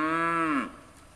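Several cows on a muddy field give one loud, drawn-out moo that tails off after about half a second, with no talking.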